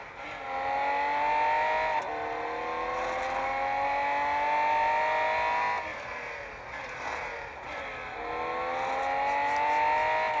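A 1962-era GT race car engine roars steadily in a racing video game at Circuit of The Americas, revving high through gear changes with brief lifts near two, six and eight seconds before climbing again, loud and alone.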